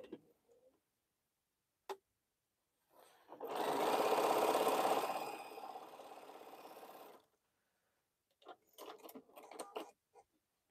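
A sewing machine stitches the final seam of a quilt, running steadily for about four seconds after a brief click, then easing off, followed by a scatter of light mechanical clicks and taps.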